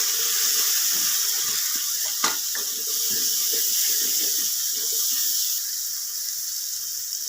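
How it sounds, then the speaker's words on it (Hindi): Water is poured into a pot of cooking potatoes and green beans, a steady rushing splash with a faint sizzle that runs continuously at close range, with no talking. "थोड़ा सा पानी डालो।"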